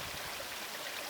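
A mountain stream in the Mourne Mountains of County Down runs with a steady, close, even rush of flowing water, heard alone with no voices.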